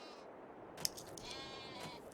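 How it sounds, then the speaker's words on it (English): Sheep bleat faintly in a farming video game set on an old valley farm, one short cry standing out over a quiet, steady ambient background. "Alright, well, we got sheep now."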